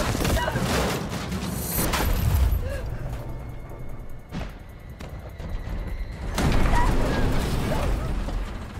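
Explosions in the video game Resident Evil 3: loud booming blasts and rumbling debris fill the clip, dipping briefly in the middle before another heavy burst, with someone talking over the action.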